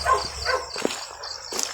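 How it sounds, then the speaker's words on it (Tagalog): A dog barks a few times in short, sharp bursts, somewhat distant, with faint background noise and no one speaking. "May asong tahol ng aso ha."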